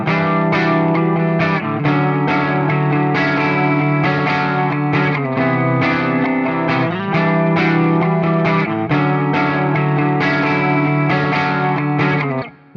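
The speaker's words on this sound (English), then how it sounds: "So let's quickly check these 3 chords played as a progression." An electric guitar with distortion and chorus effects plays a three-chord progression. Full sustained strums change in a steady rhythm, loud and up close, with no talking.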